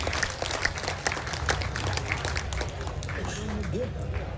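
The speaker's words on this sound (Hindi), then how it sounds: "एक बार सबके सब तालियां बजा के लाओ।" Audience applause at a Hindi poetry recital gathering: a dense, steady patter of many hands clapping throughout, with voices talking over it.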